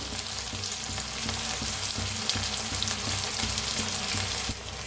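Pasta tossed in a pan with turmeric, red chilli powder, soy sauce and chilli sauce, frying with a loud, dense, continuous sizzle and faint rhythmic stirring clicks throughout.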